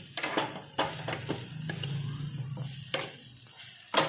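Crumbled Surati khaman being stirred in a pan with a spoon, giving sharp scraping clicks at irregular intervals over a low, steady sizzle, close and alone without talk.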